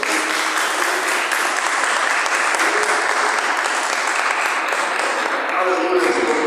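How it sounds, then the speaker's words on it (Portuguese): A church congregation claps together in dense, sustained applause that fills the room steadily and loudly throughout. "As palmas exaltam o nome do Senhor nessa noite."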